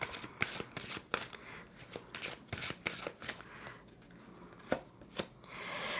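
Tarot cards are shuffled by hand in repeated crisp riffling bursts with quick slaps and pauses, close and moderately quiet, with no talking.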